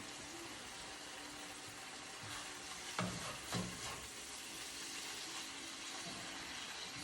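Ground turkey browns in a pan for tacos, giving a steady low sizzle and stirring scrape throughout, with two brief louder clatters in the middle.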